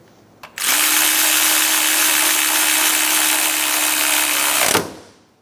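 A power tool runs in one loud, steady burst of about four seconds as it snugs down the top engine mount bolt on a 2003-2007 Honda Accord 3.0L V6, then spins down, with no talking.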